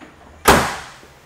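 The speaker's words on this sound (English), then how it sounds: "If we open up the tailgate" A single solid clunk of a 2022 Ford Ranger Lariat pickup's tailgate dropping open, with a short ringing decay afterward.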